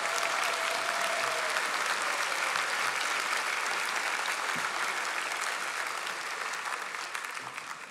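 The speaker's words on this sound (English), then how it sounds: "Let's give him a nice round of applause." An audience at an opening-remarks event gives a sustained round of applause for a coach, dense and even clapping throughout that tapers slightly at the end.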